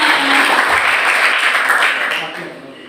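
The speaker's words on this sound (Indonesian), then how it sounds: "tepuk tangan buat kita semua" Audience applause at a seminar, steady dense clapping from a crowd that tapers off toward the end, with a faint voice underneath.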